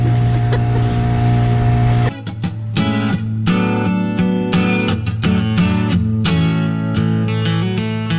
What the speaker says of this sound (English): This is the most epic dinghy ride we've ever taken.